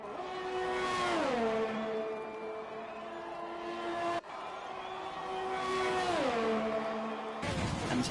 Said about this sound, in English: he's pushing that car to the limit. He wants to improve. And see what he can do here as he comes hurtling down the long straight